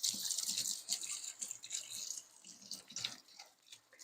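Water runs from the tap into a sink in a small, narrow kitchen as a cutting board is washed. The water splashes and drips unevenly under the stream, and there is no speech.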